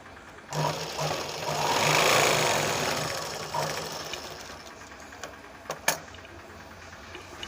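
A sewing machine stitches a blouse lining in short bursts, a close whirring run that swells and fades, followed by a few sharp clicks and handling taps.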